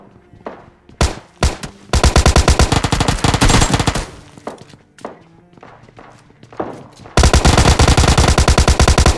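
Loud automatic gunfire in the PUBG Mobile Lite video game: a few single shots and then long, rapid bursts, with a short lull between the heavy volleys.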